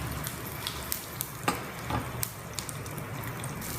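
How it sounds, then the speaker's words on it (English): Mustard seeds with chopped green chilies and sesame seeds splutter in hot oil over a low flame, a steady sizzle broken by sharp, scattered pops and crackles close by. "Add some mustard seeds. Allow them to splutter."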